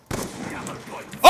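A sniper rifle fires in a shooter video game, one sharp loud report right at the end after a brief stretch of muffled game noise.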